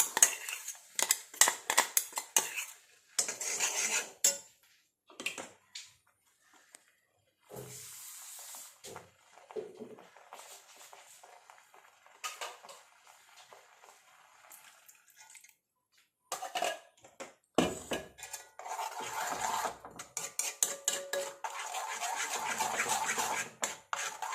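Herbal hair dye paste stirred in an iron pan on a stove, with bursts of metal scraping, clanks and wet hissing, pausing in stretches of near quiet before a long run of scraping.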